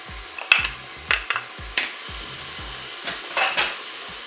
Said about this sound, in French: Ça y est, l'huile est chaude, on va pouvoir mettre pour commencer les oignons.